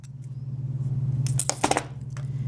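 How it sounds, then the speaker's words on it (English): Side cutters snip balled jewelry wire in a couple of quick, sharp metallic clicks over a steady low electrical hum. "So I'm going to cut with my side cutters."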